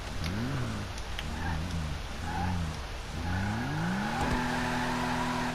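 A video game car's engine revs and whines steadily as it brakes and its tires lose traction, with a faint squeal over a continuous droning motor.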